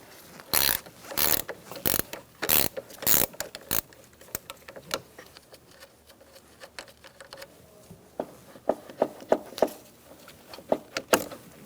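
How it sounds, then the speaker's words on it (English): An 8mm wrench loosens the negative battery terminal on a 2007-2017 Ford Expedition, giving crisp ratcheting clicks in quick clusters with short pauses, close and fairly loud. "Remove your negative battery terminal using an 8mm wrench."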